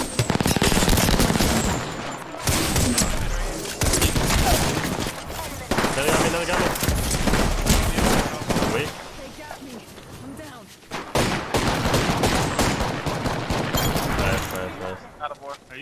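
Gunfire in the Apex Legends video game: dense bursts of automatic weapon fire and single shots crackle close and loud throughout, with brief gaps between volleys.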